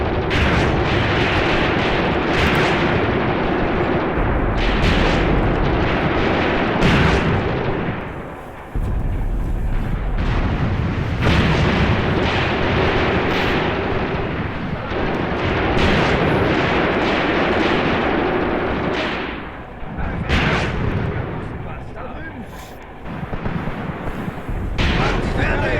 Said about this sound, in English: Artillery is absolutely winning us the battle here